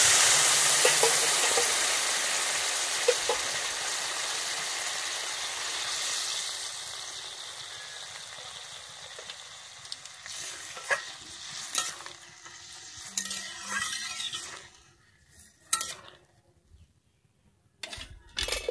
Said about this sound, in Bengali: আমি যে গরম জলটা করেছিলাম এবারে দিয়ে দিচ্ছি।